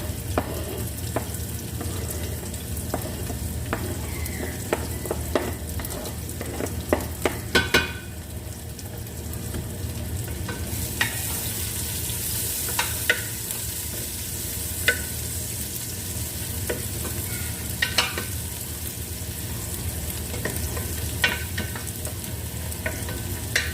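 Onion and garlic frying in a pan for a simple okra soup with meat, a continuous close sizzle broken by repeated sharp scrapes and clinks of stirring, no talking.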